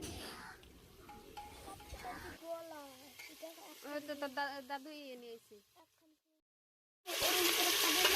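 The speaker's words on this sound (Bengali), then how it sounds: "মাংসটা আমি 2 থেকে 4 মিনিট একটু ভালো করে কষিয়ে নেব, একটু ভালো করে লাল লাল করে একটু ভেজে নেব" Chicken pieces frying and being stirred in a pan while browning for a chicken stew: steady sizzle at first, a melodic voice-like passage in the middle, then a loud burst of close sizzling at the end.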